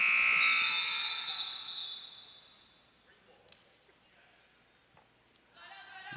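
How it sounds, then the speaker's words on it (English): A loud electronic 30-second shot clock buzzer blares at the start of a girls' basketball game and fades out, followed by quieter gym ambience, with another brief tone near the end. "Got an inadvertent 30-second buzzer."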